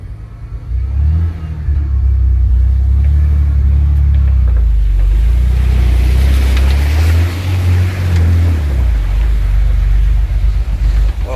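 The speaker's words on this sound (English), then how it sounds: "So you're going to roll in slow and you're going to build speed and push the wave away from you" A 1993 Ford F250 truck rolls slowly into deep water, its engine rumbling loud and steady with rising revs and water surging around it throughout.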